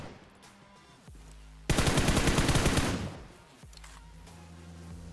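Loud burst of automatic gunfire in the BGMI (PUBG Mobile) battle royale game, a dense rapid volley lasting over a second, with quieter game ambience and footsteps before and after.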